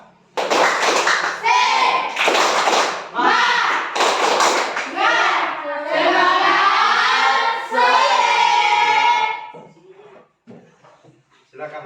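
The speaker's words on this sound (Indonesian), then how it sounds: "Tepuk semangat." A group of people in a classroom do a rhythmic spirit clap, bursts of clapping in a patterned beat mixed with loud chanted voices, then it ends and the room goes quiet.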